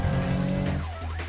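Audi RS5 accelerating hard on a test track, a loud, close engine roar with rising tone and tire noise that eases slightly as the car pulls away.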